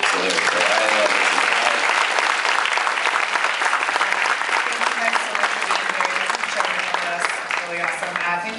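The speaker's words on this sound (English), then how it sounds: "I love that you guys clap for the volunteers" A theater audience applauds the volunteers after a film Q&A, dense sustained clapping from a large crowd that fills the room without a break and tapers slightly near the end.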